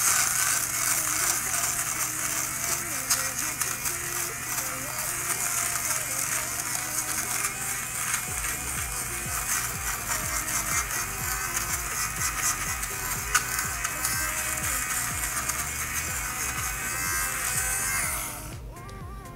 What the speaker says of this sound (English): this is a fabric shaver. Now it's going to take, woo, it's gonna take all this away